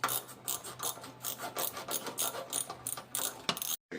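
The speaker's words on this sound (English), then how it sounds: "take your 10mm bolt. Tighten everything back up." Ratchet clicking in steady rapid bursts while tightening a 10mm bolt on a 2004-08 Pontiac Grand Prix headlight assembly, close and clear, pausing briefly near the end.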